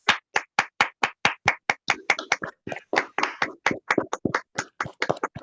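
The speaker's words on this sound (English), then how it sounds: "Can we please have a round of applause for all of them?" Webinar participants applaud award winners with a run of sharp, evenly spaced hand claps that loosen into a busier, overlapping patter toward the end, fairly close and alone without talk.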